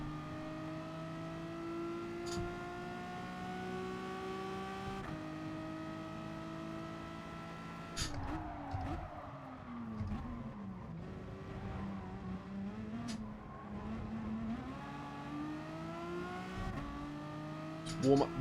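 Race car in Gran Turismo Sport, engine droning steadily through gear shifts, then a burst of revving and tire squeal mid-run, with the engine rising again and a loud, rough thump at the end.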